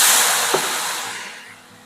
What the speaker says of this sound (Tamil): இந்த பக்கம் வந்து தண்ணி ஊத்திட வேண்டியதுதான்.